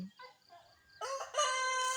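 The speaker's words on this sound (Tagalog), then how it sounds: "Yan, may manok din doon" A rooster crows once, loud and clear, in a long drawn-out call after a few faint bird chirps.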